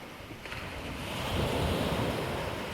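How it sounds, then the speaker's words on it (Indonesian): Ocean waves washing onto a beautiful beach, a steady broad roar of surf mixed with wind buffeting the microphone, swelling a little louder midway and continuing throughout with no talking. "kami ada di sebuah pantai yang sangat indah"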